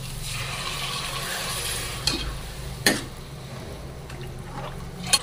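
Thin ragi flour batter being stirred into hot spices in a pot, a soft continuous sizzle with a few sharp scraping knocks of the spoon against the pot.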